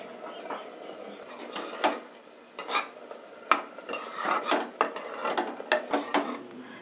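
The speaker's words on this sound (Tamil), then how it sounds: "நல்லா பச்சை வாசனை போகிற வரைக்கும் நல்லா வதக்கணும்" Coriander paste sautéed in a pan for coriander pulao, a metal spoon scraping and clinking against the pan in irregular close strokes, with soft sizzle underneath and no talk.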